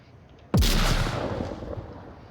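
A single loud gunshot in a tactical shooter video game erupts after a brief quiet moment, its boom decaying into a rumbling echo over about two seconds.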